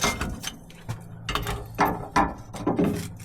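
A ratchet turns to start a screw during an airbag install on a Ford F150 Tremor, giving several short, uneven clicking bursts close up.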